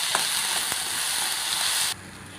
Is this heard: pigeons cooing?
no